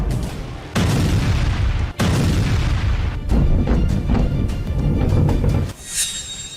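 Explosion boom sound effects in a Hindi TV news report on Middle East conflict: a series of loud, dense rumbling blasts that keep cutting in and rolling on, with no talk over them, ending in a fading bright whoosh.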